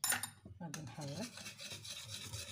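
A spoon or spatula stirs thickened caramel cream in a pot, giving soft rasping scrapes that are quiet and close.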